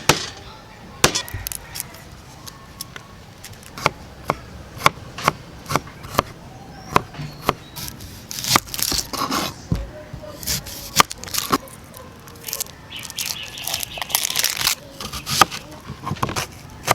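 Knife chopping cooking ingredients, banana blossom, garlic and onion, for outdoor-cooked pork leg humba, heard as a long series of sharp, irregular knife strikes, sometimes in quick bursts, with clattering in the background.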